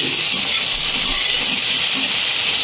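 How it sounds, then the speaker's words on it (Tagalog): Shrimp sizzling in a frying pan as they are stirred to brown for ginataang shrimp, a steady loud hiss running continuously throughout with no talking. "Haluin siya natin ng konti para mag-brown."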